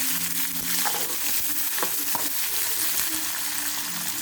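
Onions being stirred and fried for matikaya fry, a steady close sizzle with scraping and mixing clatter throughout.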